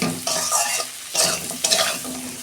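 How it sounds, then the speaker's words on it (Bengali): Potatoes fry in a pan with a little turmeric, loud sizzling broken by several bursts of stirring and scraping at close range. "আলুটাও আমি 2 মিনিট ভেজে নেব"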